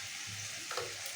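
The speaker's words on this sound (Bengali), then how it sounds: "আমি টমেটো আর পেঁয়াজ রসুন ঝালটা ভালো করে ভেজে নেব, যাতে টমেটোটা একটু নরম হয়ে যায়" Tomato, onion and garlic fry in a pan, producing a brief, even, moderately quiet sizzle with a single soft stir or scrape near the end.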